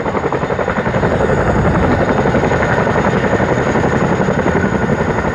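A British Army helicopter takes off up close, a very loud continuous rotor thump and turbine roar that fills the whole stretch with steady pulsing beats.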